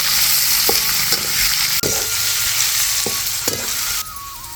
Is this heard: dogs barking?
no